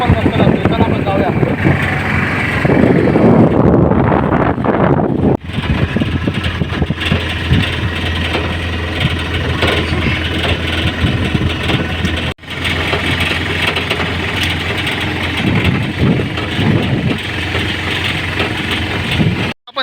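A car engine hums steadily through a ride on a forest road, loud and continuous with wind buffeting the microphone and a few brief dropouts, while voices chat faintly over it.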